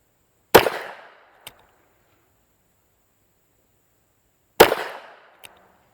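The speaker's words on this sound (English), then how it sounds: "We'll shoot at the bottom target on my brand new target stand" Two sharp, loud .38 Special revolver shots from an old used Titan Tiger fired outdoors at a target stand, each a crisp crack with a short decaying tail and a faint echo, spaced about four seconds apart.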